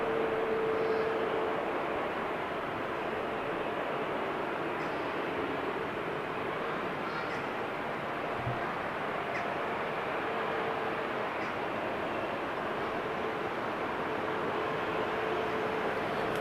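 Boeing 777 jet taking off at Amsterdam Schiphol Airport, heard as a steady, broad engine roar that holds evenly for the whole stretch from a moderate distance, with no talk over it.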